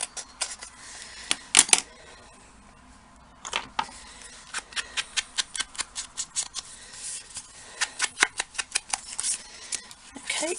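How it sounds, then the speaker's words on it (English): Scissors trimming paper for a craft project, a run of quick crisp snips in uneven bursts, some isolated and others in rapid rhythmic clusters, close and fairly loud with no talk. "I'll trim that off and then just re-ink that."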